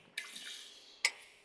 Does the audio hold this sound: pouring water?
yes